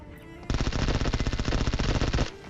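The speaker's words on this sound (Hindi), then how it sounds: "जैसे फायरिंग स्टार्ट हुई" Automatic gunfire in the mobile game PUBG Mobile: a loud, close burst of rapid, evenly spaced shots lasting nearly two seconds, then stopping abruptly.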